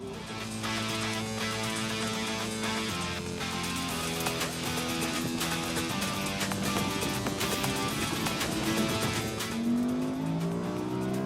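A powerful Audi R8 sports car engine roars close up, rising in pitch as it accelerates through gear shifts, loud and continuous throughout.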